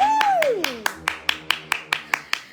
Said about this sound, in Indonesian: tepuk tangan untuk bintang tamu kita ya